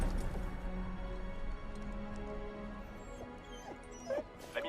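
Dog in a horror film scene whimpering, with short yips and a couple of sharp bark-like bursts near the end, fairly faint over a low background hum.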